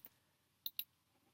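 A computer mouse clicks faintly in a quiet room: one light click at the start, then two sharper clicks close together a little later.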